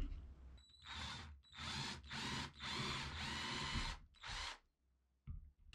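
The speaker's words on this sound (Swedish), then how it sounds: "Då får vi byta till borret igen." A power drill boring into wood while ice fishing, running in five bursts of about half a second to a second each, close and fairly loud, with short pauses between and a faint knock near the end.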